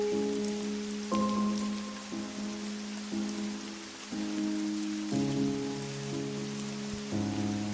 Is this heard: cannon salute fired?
no